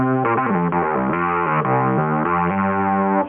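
Minimoog analog synthesizer, just switched on during a refurbishment, playing a steady stream of buzzy, distorted oscillator tones that shift pitch in stepped notes, loud and close with no talk.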